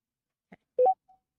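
Telephone keypad tones as a caller presses star then 3 on a public-hearing phone line, two short beeps, the second louder and clearer, with a faint tone trailing after, isolated in silence.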